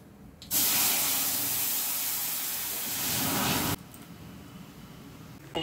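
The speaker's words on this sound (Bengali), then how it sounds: "আর দেবো একটু সর্ষে ফোড়ন" Mustard seeds hit hot oil for a sour lentil dal and set off a sudden loud, broad sizzling hiss that holds steady for about three seconds, then drops sharply to a quieter background.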